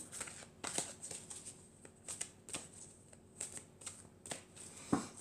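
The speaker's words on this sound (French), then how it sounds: "Alors je vais tirer quatre cartes." Tarot-style cards being shuffled by hand for a card reading, a steady run of soft riffling snaps close to the mic with no talking.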